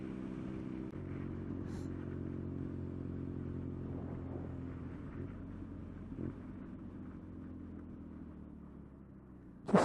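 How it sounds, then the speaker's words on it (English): BMW R nineT motorcycle fitted with an Akrapovic exhaust climbs a hill, a steady low engine drone holding an even pitch throughout, with a short sharp noise at the very end. "the dulcet tones of the Akrapovic exhaust"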